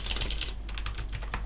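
Quick, close-up clicking of fingers typing on a computer keyboard, a rapid run of keystrokes over a low steady hum.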